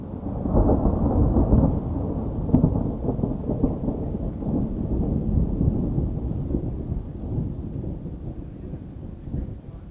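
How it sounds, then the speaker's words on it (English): Thunder rolls in a deep, continuous rumble with rain beneath it, swelling early and slowly fading over about ten seconds. "the second one's just thunder"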